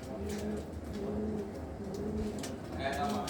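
Soft, low pigeon cooing repeats a few times over a murmuring background, close by and fairly quiet.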